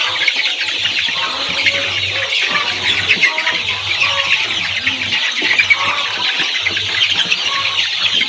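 Laying hens scramble and compete for feed, filling the air with a loud, dense mass of clucks and sharp squeals close by, over a steady low hum, with no talk.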